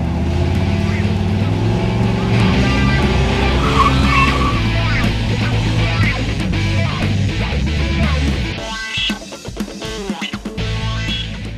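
Race car with an MSD 6AL-2 ignition doing a two-step launch test at a 4,000 RPM rev limit, a loud, harsh, sustained engine roar with crackling that cuts off sharply near the end.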